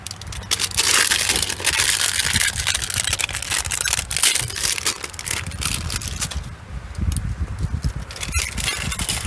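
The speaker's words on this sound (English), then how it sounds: "cut off the plastic packaging" Crinkling, crunching plastic packaging being cut and pulled off a Reese 2-inch towing starter kit, irregular close-up crackles and snips in a busy stream with short pauses.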